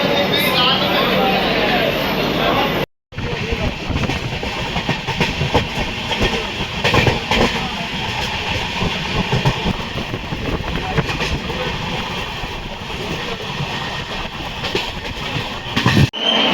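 A passenger train runs on rails near Pipariya junction, with steady close rumble, wheel clatter and hiss heard from inside the coach after a brief cut, while people talk over it.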